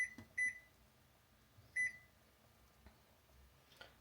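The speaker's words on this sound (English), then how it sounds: "We are going to put the timer on" Kitchen timer being set for 15 minutes while fried rice steams on a low simmer, giving two short electronic beep bursts near the start and middle, with faint clicks and quiet room noise between.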